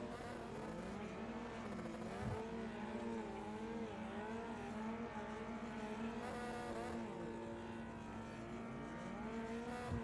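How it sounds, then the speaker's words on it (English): Racing car in the iRacing sim, stuck against the wall doing burnouts, with a steady loud engine drone and wavering tire-squeal tones that rise and fall continuously throughout. "It's in the wall doing burnouts."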